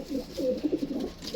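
Pigeons coo in soft, low rounded phrases that repeat close by in a loft of prized breeding pairs, with no one talking.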